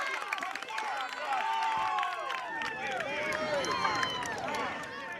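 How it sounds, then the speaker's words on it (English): Crowd noise at a high school baseball game, Rockingham County at McMichael, a steady roar of cheering and shouting that stays loud and dense throughout, with voices mixed into the din. "Listen to this crowd"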